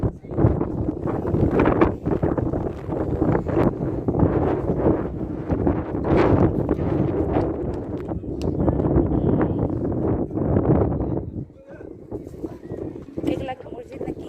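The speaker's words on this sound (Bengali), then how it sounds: "অনেক বাতাস" Strong wind buffets the microphone on a hilltop overlooking many hills, a loud continuous rumble with gusts, while people talk over it throughout.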